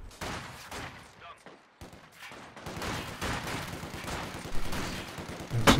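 Machine gun bursts and scattered gunfire in a Company of Heroes 2 World War II multiplayer battle, a steady crackle of rapid shots running under game ambience, mostly mid-distance with a louder burst at the end.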